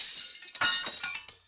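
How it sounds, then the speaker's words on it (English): Glass breaking in through upstairs windows of a house, heard as a burst of bright crashes and tinkling shards in several quick impacts over about a second and a half, with no voices. "glass broke in through the upstairs windows"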